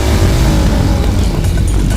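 A motorcycle ridden in a film scene, its engine running as a steady, loud, continuous rumble with no talking over it.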